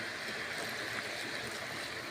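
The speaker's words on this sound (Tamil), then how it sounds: "இப்போ நம்ம என்ன பண்ணோம்னா கொஞ்சம் லைட்டாக தண்ணி ஊற்ற போகிறோம்." Water is poured into a pan of chicken pallipalayam, a steady rushing splash heard close and continuous for a couple of seconds, with no speech.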